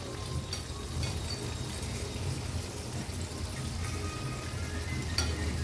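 Butter garlic chicken pieces frying in a pan over low to medium flame, a soft, steady sizzle with faint clinks, quiet and continuous.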